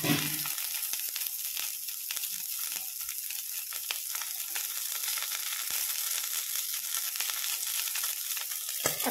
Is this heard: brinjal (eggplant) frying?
yes